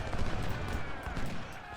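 Cannon and rifle fire in the video game Ultimate General: Civil War, a dense rumbling barrage of overlapping shots that fills the whole stretch at moderate loudness.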